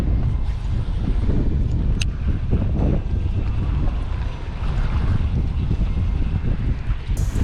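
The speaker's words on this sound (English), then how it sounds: "Yikes, that wind really caught it." Strong wind buffets the microphone in a loud, continuous low rumble on a windy day of bass fishing from a boat, with faint water and gear noises beneath the roar.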